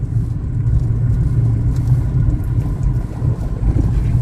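A car engine runs steadily while driving at moderate revs during a driving lesson, a continuous low rumble with some wind noise.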